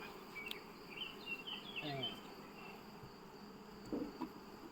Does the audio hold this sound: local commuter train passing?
no